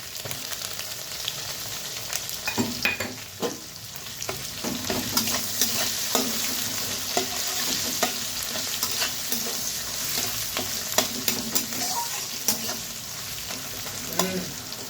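Ginger, garlic and onion frying in a pan, a continuous close sizzle broken by repeated spatula scrapes and clinks against the pan, with no talk over it.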